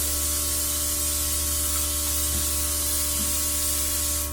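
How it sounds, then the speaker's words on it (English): A Luminess Air airbrush makeup system sprays foundation around a face, giving a steady, loud, continuous hiss from start to finish over a faint electrical hum, with no one talking. "So you just really want to spray it around your face"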